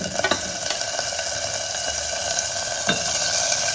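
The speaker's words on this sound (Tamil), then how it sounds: "இப்போ சீரகமும் மிளகும் பொரிஞ்சிருச்சு. சின்ன வெங்காயம் பச்சை மிளகாயை போட்டுக்கலாம்." Cumin seeds, black pepper, shallots and green chillies fry in hot oil, a continuous close sizzle and crackle with a few soft spoon taps and stirs, no voices.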